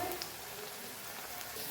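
Manchurian balls deep-frying in hot oil give a steady, soft crackling sizzle, an even hiss with tiny pops throughout.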